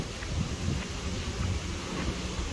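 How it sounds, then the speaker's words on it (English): Strong hurricane wind from Hurricane Ian in North Port, Florida, roaring as a steady, loud, broadband rush of gusts buffeting the microphone, with no voices. "Winds are picking up again."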